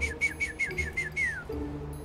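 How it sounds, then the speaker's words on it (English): A person whistles a short call to a bird, a run of seven quick repeated chirping notes ending in a longer falling slide, close and clear over a soft low hum. "I do that whistle every time so she gets to know part of my voice"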